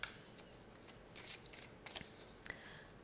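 Tarot cards shuffled by hand, a soft close riffle of brief papery flicks and slides in short bursts, quiet and alone with no voices.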